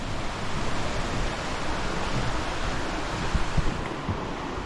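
A mountain valley stream on a summer hike flows with a steady, broad rushing wash that holds at an even, moderate level without any voices.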